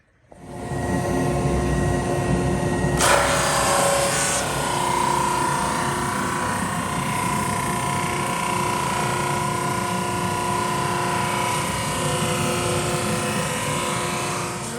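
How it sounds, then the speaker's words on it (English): A loud, continuous drum sander whir sanding wood, with a steady hum and broadband grinding noise, running unbroken throughout with only a brief brighter burst early on. "I'm gonna go throw them in the drum sander"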